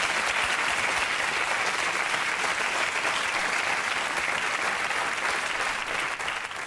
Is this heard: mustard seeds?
no